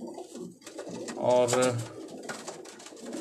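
Pigeons kept on a rooftop coo in a brief, close burst of throaty calls, with someone talking over and around them.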